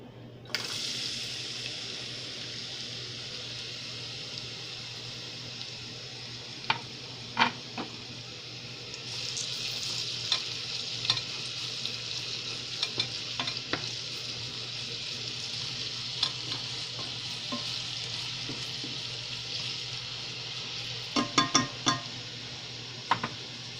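Chopped onions fry with a steady, even sizzle in a pan for alicha shiro, with occasional sharp scrapes and knocks of a spoon stirring them, close and continuous throughout.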